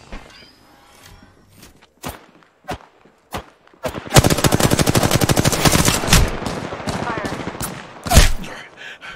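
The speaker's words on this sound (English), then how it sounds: "Shots fired, and they're hitting me." Gunfire in Apex Legends: a few scattered single shots first, then a long rapid automatic burst that stays loud and close, followed by a final heavy blast, with game sounds between the shots.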